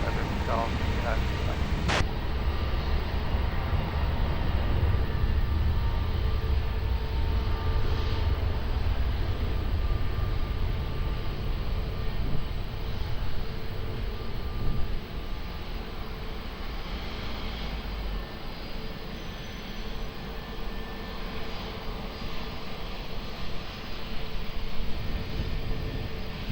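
Aircraft at Lisbon Airport produce a loud, continuous jet engine rumble that swells and fades slowly, while a voice keeps talking over the roar.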